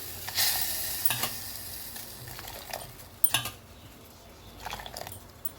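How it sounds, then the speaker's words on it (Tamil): Broken wheat rava roasting in a pan, soft dry sizzling with intermittent scraping and stirring strokes of a spoon against the metal, close and fairly quiet. "புரோக்கன் பீட் இருக்கு இல்லையா, இதை போட்டு நல்லா வறுத்துடுறோம்"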